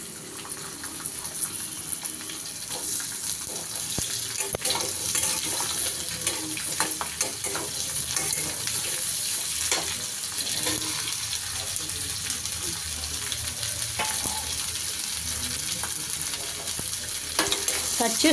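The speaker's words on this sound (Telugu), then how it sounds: "కట్ చేసుకున్న తర్వాత 2 నిమిషాలు వేగనివ్వాలి." Thinly cut tindora (ivy gourd) pieces fry in a pan after red chillies have been browned in it. A continuous close sizzle carries through, broken by scraping stirs and occasional clinks, with a watery hiss at times.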